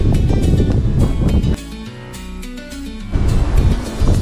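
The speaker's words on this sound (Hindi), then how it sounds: "और अभी यहाँ पर जो हवा है वो काफ़ी तेज़ चल रही है" Strong wind of about 40-50 km/h blowing across quiet, partly frozen Moon Lake in Saskatchewan, loud buffeting gusts on the microphone that ease briefly in the middle before surging back.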